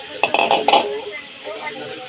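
Chayote dropped into a pan of sizzling ground pork gives a few clattering, crackling bursts up close, then a steady soft frying hiss underneath.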